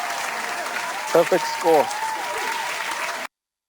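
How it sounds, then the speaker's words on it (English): Applause from a group at a practice quiz session for the Danish citizenship test, a steady wash of clapping lasting about three seconds with a voice talking briefly over it partway through. "Round of applause for you guys."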